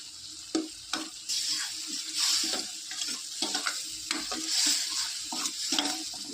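Onion, tomato and green chili fry in hot oil while a spoon stirs and scrapes the pan. A steady sizzle sits close under repeated scraping strokes, with no talking.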